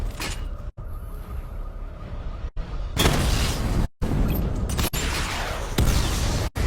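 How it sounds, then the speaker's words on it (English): In Batman Arkham Knight, the Batmobile fires a missile barrage: heavy booming explosions and bursts that overlap into a dense, loud roar, with brief cuts between volleys. "Missile barrage level 1 ready."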